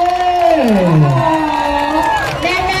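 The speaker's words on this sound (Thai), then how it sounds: "ขอเสียงปรบมือขอเสียงกรี๊ดดังๆให้กับแบรนด์กาตัน" A crowd cheers and screams at a Chinese New Year brand event, its noise continuous and loud beneath a host talking over a microphone.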